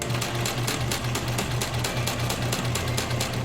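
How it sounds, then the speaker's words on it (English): A sewing machine stitches bias tape onto fabric with a fast, even, rapid-fire needle chatter, close and continuous throughout. "I'm going to sew down the entire length, just sewing the back to the back of the fabric"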